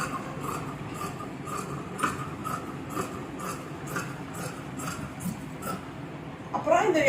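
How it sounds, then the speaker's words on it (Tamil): Scissors cut straight through chudithar pant fabric with no marking, a steady run of soft rhythmic snips and rubbing close by, with a brief louder rustle at the end. "இது நான் மார்க் பண்ணாமையே கட் பண்ணுறேன்."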